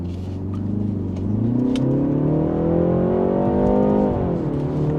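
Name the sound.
BMW 330i xDrive 2025 engine accelerating in Sport mode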